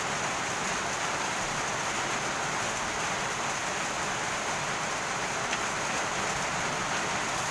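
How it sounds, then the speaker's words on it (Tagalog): A sudden heavy downpour roars steadily and close without letup, a dense continuous wash of rain with no voices. "Kusog kayong ulan."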